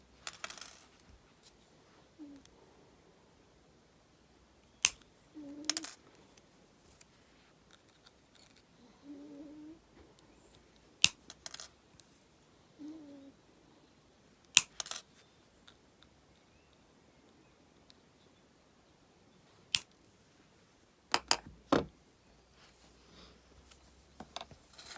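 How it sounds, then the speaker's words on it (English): Sharp metallic snips of cutters trimming thin jewelry wire for a wire-wrapped pendant, about a dozen isolated clicks at irregular intervals with soft handling noises between them. "so I'm just going to cut the wires off"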